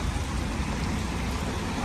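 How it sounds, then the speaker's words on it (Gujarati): Heavy rain pours down in a dense, steady hiss and patter, loud and continuous with no voices. "જો વરસાદ આજે પડે છે બહુ."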